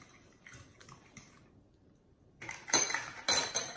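A spoon works through doughnut batter of eggs whipped with sugar, baking soda and vanilla sugar, giving faint scrapes and then a quick run of louder metallic clinks against the bowl.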